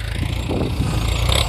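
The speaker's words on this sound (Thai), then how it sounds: "รถไถฟอร์ด ไถแป๊บเดียวครับเสร็จแล้ว" A Ford 6610 single-axle tractor plowing a rice field: a steady, loud diesel engine drone with a deep, constant low rumble, heard up close without variation for its short length.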